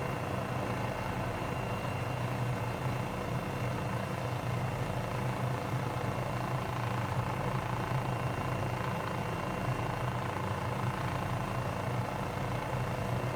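A helicopter flies at low speed near airport buildings in Microsoft Flight Simulator, its rotor and engine producing a steady, even drone with no pauses and no voices.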